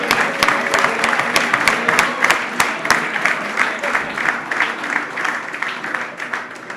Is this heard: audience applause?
yes